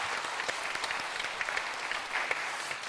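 A church congregation at an early-morning special prayer service claps for its elders, producing a dense, steady round of applause with no voices over it.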